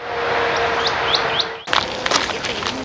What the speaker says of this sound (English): you might hear the birds sing to you